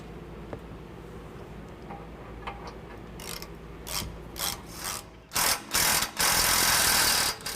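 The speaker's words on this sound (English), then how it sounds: "go ahead and tighten these down so it's snugged up so it doesn't move" A ratchet clicks steadily at first, then a series of louder, rapid ratcheting bursts as a trailer hitch bolt is cranked tight on a 2010 Dodge Ram 1500, close by.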